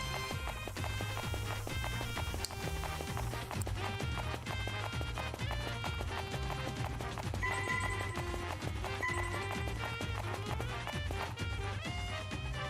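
A galloping horse in Mario & Sonic at the Rio 2016 Olympic Games gives fast, regular hoof beats that run under upbeat game music throughout.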